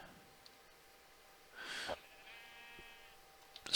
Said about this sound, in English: See sheep, but sheep are not a priority.